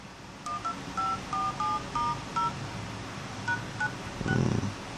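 Keypad tones from an HTC Desire HD phone as its buttons are tested after a touchscreen replacement, a series of short separate beeps in an uneven rhythm, close and clear over quiet room noise.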